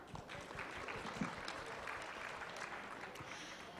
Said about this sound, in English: can we cheers for ourselves? Round of applause.